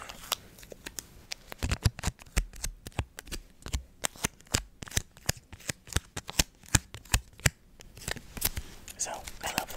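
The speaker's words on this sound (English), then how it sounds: "Target stickers are luckily easy to remove." A Target price sticker is peeled off a book in a quick run of crisp crackling pulls and taps, close to the microphone, with soft whispering around it.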